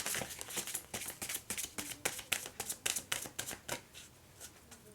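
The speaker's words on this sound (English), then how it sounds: "Now let's ask from the Archangel Gabriel cards any messages from your future self" Archangel Gabriel oracle cards are shuffled by hand in a quick, rhythmic series of soft papery riffles and slaps, close up and steady throughout, with no one talking.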